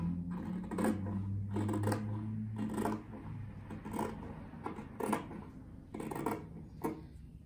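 Scissors snip through kite paper down the middle, a series of short crisp cuts and paper rustles repeating at an uneven pace, close up.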